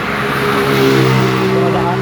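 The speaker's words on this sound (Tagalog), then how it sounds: "Dumadaan yung mga sasakyan." Cars passing by on a road, heard as a loud, continuous engine drone with steady tonal hum, with a voice talking over it.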